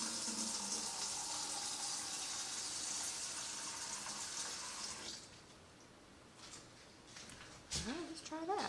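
Water gushes steadily from a tap for about five seconds, then stops, followed by quieter clatter and a voice nearby.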